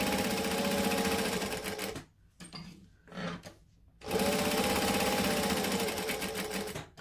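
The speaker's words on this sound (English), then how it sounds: "I'm just going to baste them on with a long stitch and a 1/8 of an inch" A sewing machine bastes side pockets onto a crossbody bag with a long stitch, its fast rhythmic whirring running loud and close, pausing for about two seconds with small handling sounds, then resuming steadily.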